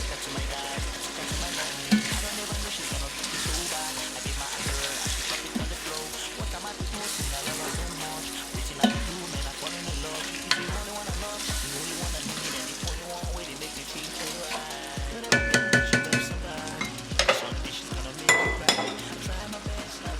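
Pieces of deboned shaki (beef tripe) sizzle and fry in a stew pot of Nigerian efo riro while a utensil stirs them, steady close crackling with rhythmic scraping and clinks of metal against the pot.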